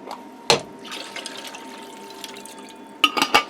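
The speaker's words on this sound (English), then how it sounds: "Put my lid on here and shake this up to get that" A lidded jar of water and leftover pasta sauce is shaken in a kitchen, giving a sharp knock, a low sloshing stretch, then a quick burst of sloshing rattles at the end.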